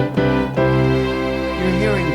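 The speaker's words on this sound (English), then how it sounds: "hearing both piano and synth coming out of your left and right speakers." Nord Piano 4 stage keyboard playing a sustained chord with a piano layer blended with a synth layer in stereo, rich held tones with a fresh chord change near the start and a softer shift later, alone without talk.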